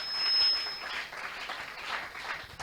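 Congregation clapping at a French-speaking church worship service: a steady, dense wash of many hands applauding together, fairly even in loudness for a few seconds, with no voices over it.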